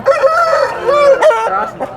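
A rooster crows loudly and close at a busy weekly chicken market, one long strained call with wavering pitch filling the whole moment.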